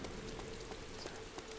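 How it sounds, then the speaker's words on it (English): Rain falls through a building's roof in the video game DayZ, a constant, even patter of drops on surfaces, moderately quiet and uninterrupted, with no talking. "The rain is falling through the roof."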